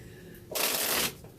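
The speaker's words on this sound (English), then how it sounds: "I'm going to shuffle Morgan." A single quick riffle shuffle of a deck of playing cards, a short crisp burst of flapping lasting about half a second in a quiet room.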